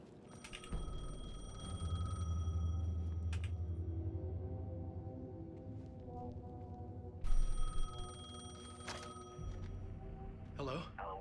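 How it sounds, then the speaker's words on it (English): Payphone in Alan Wake II rings with bursts of bright metallic bell tone at the start and again later, heard over a low droning rumble while someone speaks. "The payphone was ringing."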